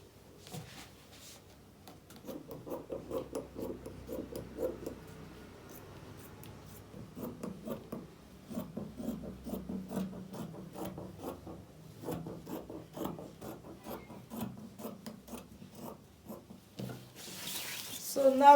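Scissors trim fabric along marked lines for an overlapped top, making quiet, close, repeated crisp snips and rasping cuts in steady runs. Faint talk is heard in the background.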